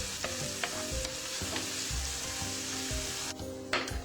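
Meatballs sautéing in a pan, with a continuous sizzle broken by repeated scraping and stirring knocks at a roughly regular pace, close and moderately loud with no talking.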